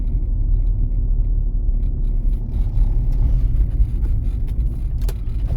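A car rolls slowly along a driving exam route in Kovel, its engine a low, steady rumble with tyre and road noise close up, carrying on without pause.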